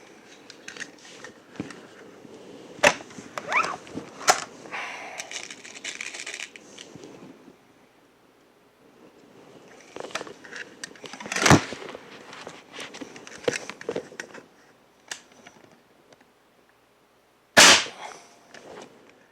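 Shots from a Hatsan 125 Sniper .25 caliber spring air rifle: a few sharp, loud cracks spaced several seconds apart amid quieter clicking and handling noise, with no talking.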